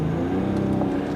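BMW 750d xDrive diesel engine from 2014, rated at 381 hp, revving around 3000 rpm, a steady low droning hum heard from inside the car, brief and even in level.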